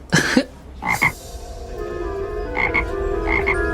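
Small toad croaking in several short, bursty calls, fairly close, with quieter gaps between them and no voices.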